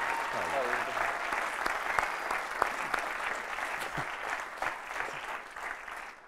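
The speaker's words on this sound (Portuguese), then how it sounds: "peço uma salva de palmas para o Sérgio, o nosso guionista" A studio audience bursts into dense, sustained applause mixed with cheering voices and someone shouting over it, fairly loud and continuous throughout.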